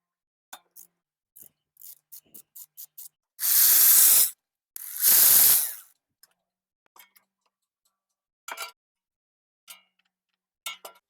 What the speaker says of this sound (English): So we take the caliper off and start replacing the brake pads.